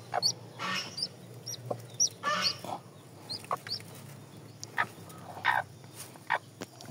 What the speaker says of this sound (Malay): ada ayam lagi yang lagi ngeram dan kebetulan sudah menetas 1 ekor